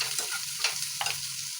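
Sliced onions with curry leaves frying in a pan for a chapathi gravy, a loud, steady close-up sizzle with a few sharper crackles and stirring scrapes over it.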